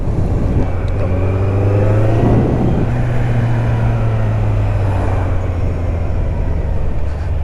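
A Kawasaki Z900 motorcycle, A2 restricted and full power versions, ridden out toward a fort: a continuous loud engine drone with a rising rev partway through, overlaid by heavy wind rush.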